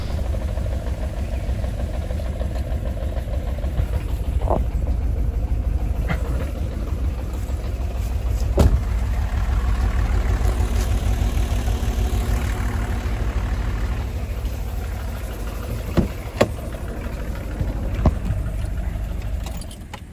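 A BMW E39 525tds diesel engine idles roughly with blue smoke, giving a loud, continuous low rumble with uneven pulsing and a few sharp knocks and clicks near the end.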